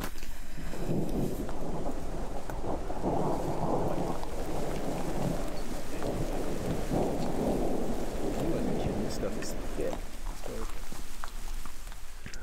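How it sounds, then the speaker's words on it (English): Heavy thunderstorm on a Colorado hillside, steady pounding rain with deep rolling thunder rumbling underneath, loud and continuous for the whole stretch, easing slightly near the end. "we had this nasty thunderstorm just start pounding us with lightning and rain"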